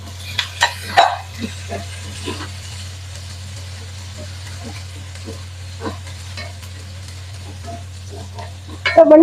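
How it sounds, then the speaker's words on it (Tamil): Chopped chilies frying in a pan with mustard seeds and cumin: a soft crackling sizzle with light spoon taps over a steady low hum. A louder burst of frying and stirring comes at the end. "கடுகும் சீரகமும் பொரிஞ்ச வரைக்க வெட்டி வச்சிருந்த மிளகாயை சேர்த்துக்கொள்ளுவோம்"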